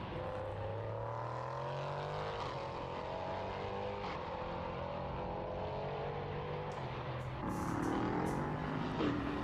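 A 5.6-litre Nissan V8 race car engine heard from a distance at Portimão, droning steadily as the pitch climbs through gear changes while powering out of a turn, growing louder near the end.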